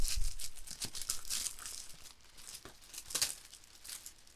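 A package holding a football jersey is torn and crinkled open, with sharp irregular bursts of rustling wrapping, close and fairly quiet, and no talking.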